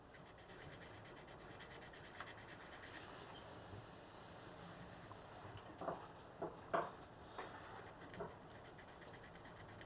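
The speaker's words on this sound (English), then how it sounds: "we'll do the rest with the buff stick very gently." Gentle buffing of a small steel watch part, the spring piece of a swan neck fine adjustment, with a buff stick: a soft, continuous close rubbing hiss, with a few light taps and scrapes toward the end.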